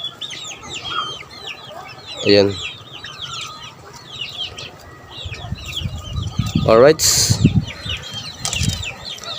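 Chickens (gamecocks, fighting roosters) clucking and flapping their wings in bursts, with loud wing flurries near the middle and end, a speaking voice briefly over the birds.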